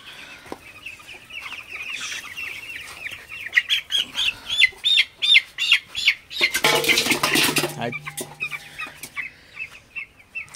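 Fourteen-day-old broiler chickens being picked up for weighing cluck and squawk close by, with rapid repeated calls building to a loud flurry of agitated squawks and brief wing flapping.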